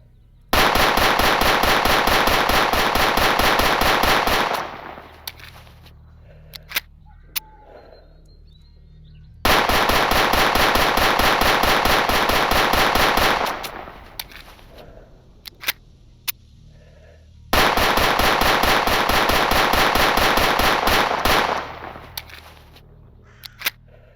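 A GSh-18 9mm pistol fires in the video game S.T.A.L.K.E.R. Anomaly in three long bursts of rapid, evenly spaced shots, each lasting several seconds, separated by pauses filled with faint mechanical clicks.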